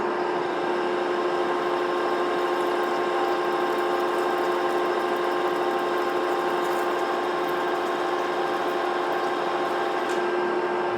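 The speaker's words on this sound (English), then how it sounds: "I'm gonna feed this with the power feed at 1¼ a minute." An ancient horizontal milling machine cuts a keyway on power feed, giving a steady, unbroken mechanical drone with a whining tonal hum that holds constant and close throughout, with no talk.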